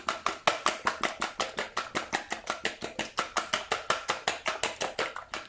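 Omelette eggs are stirred in a pan with quick, even taps of a utensil against the pan, about five per second, close and continuous, with no voices.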